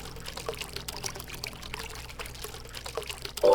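Liquid pours in a thin, steady trickle from a bottle at a virtual bartending bar, faint and close, ending in a brief louder tonal chime.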